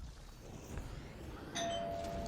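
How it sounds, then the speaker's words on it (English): A doorbell chimes once with a short ringing tone against quiet room background noise, and no one speaks. "Ooh, doorbell ring."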